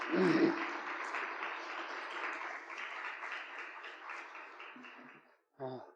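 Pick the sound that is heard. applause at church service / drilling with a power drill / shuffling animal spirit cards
applause at church service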